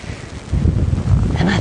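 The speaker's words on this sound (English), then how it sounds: "The wind is gusting around, so that's changing direction round and around." Wind gusting and buffeting a microphone on an open safari drive at a game reserve, a steady low rumble that swells louder after a quiet start and keeps pushing in bursts.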